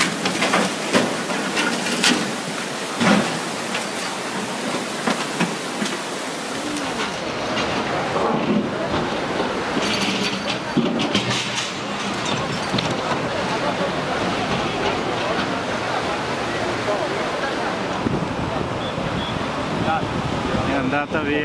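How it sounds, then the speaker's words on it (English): Powerful river current in Italy rushing loudly and continuously as it sweeps two loose boats toward a bridge, with broad roaring water noise and scattered knocks. "A powerful current ripped two boats loose, shoving them straight toward a bridge."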